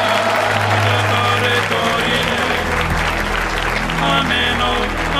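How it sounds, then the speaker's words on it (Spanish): An audience at a televised show breaks into loud, sustained applause that fills the clip, with faint voices mixed into the clapping. "Un aplauso a Julio Jun, que nos acompaña como siempre."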